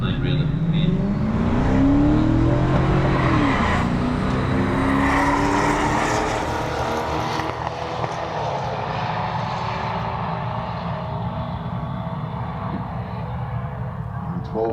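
An Audi A1 and a Monza race on a track, a loud engine drone with a rising then gliding pitch that gradually fades as the cars pull away, over steady rumble and wind noise.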